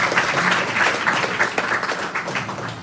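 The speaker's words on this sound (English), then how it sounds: "big applause for himself." Audience applause at a talk, a burst of clapping from a modest group, fairly close with some individual claps standing out, uneven and beginning to taper off.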